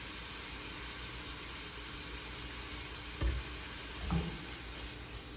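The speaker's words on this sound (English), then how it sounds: "Just a little bit of a simmer there" A lemon cream sauce with heavy cream simmers gently in a pan, giving a steady soft sizzle and hiss with a couple of brief stirring clunks.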